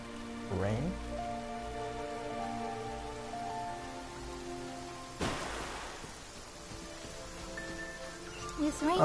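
Heavy rain falls steadily in the Genshin Impact game world, a continuous hiss with a sharp brief burst midway and some game sounds and tones layered over it.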